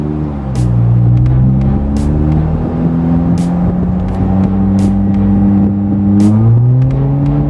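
An unremapped Honda Jazz GE8 RS automatic is revved hard in first gear into its rev limiter. The engine drone is loud and close, rising and holding high, broken by repeated sharp cutoff stutters.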